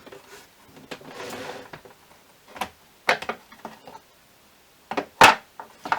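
Wooden drawers slide and knock a few times, with sharp clacks near the end and quiet rummaging in between.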